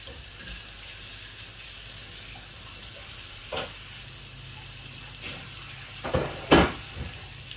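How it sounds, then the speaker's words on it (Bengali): Tilapia fillets frying in hot oil give a steady, moderate sizzle, broken by a few sharp clatters and bursts of spatter near the middle and end, with no talking. "তেলাপিয়ার ফিলেট। এই যে আমি ভাজি করতেছি"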